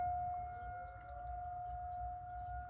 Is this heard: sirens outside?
yes